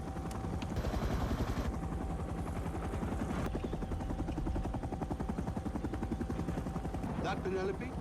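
Helicopter rotor chop from Desmond's flight in a LOST episode, a steady rapid thudding that runs loud throughout with dense layered noise mixed in.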